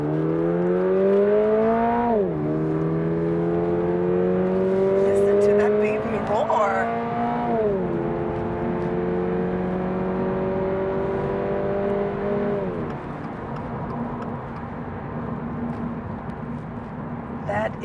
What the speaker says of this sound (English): as we are driving off, we do need to hear that powerful engine sound